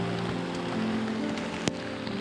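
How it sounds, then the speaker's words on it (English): Heavy rain pouring without pause on a high mountain trek to the Valley of Flowers and Hemkund Sahib, a dense, constant hiss with a low steady hum beneath and one brief sharp knock near the end. "rain poured without respite, and icy winds pierced through the fog-laden surroundings"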